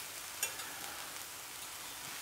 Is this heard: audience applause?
no